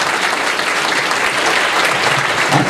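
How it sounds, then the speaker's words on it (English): Loud, dense applause from a crowd at a medical annual gala, a close, continuous roar of clapping hands with no break from start to finish. "We need a standing round of applause for that one."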